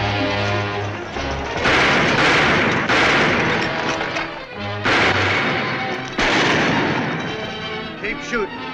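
Heavy gunfire in a Western shootout, with dense bursts of loud, close shots in waves separated by brief lulls and rattling echoes, and voices under the firing.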